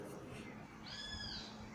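A frightened kitten meows in a rescue scene, one short rising and falling cry heard faintly over steady background noise.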